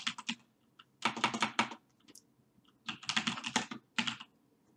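Clattering bursts of computer keyboard typing, close and crisp, in several quick runs of keystrokes separated by short pauses, with no talking over them.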